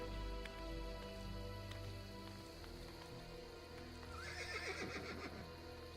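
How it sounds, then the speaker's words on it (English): A horse in the video game Assassin's Creed Brotherhood gives a sharp whinnying neigh near the end, after softer clopping hoofbeats and a light patter like rain in the background. "Let's see how close the horse will actually get to where I am as Ezio."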